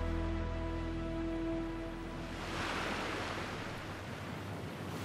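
Rising tide waves wash in a steady, broad roar of surf, with a low tonal hum underneath early on and a swell of breaking water partway through.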